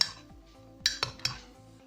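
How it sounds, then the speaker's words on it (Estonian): A spoon stirs thick beet soup in a pot, scraping softly with a few sharp clinks against the sides. "Segame natukene ka veel."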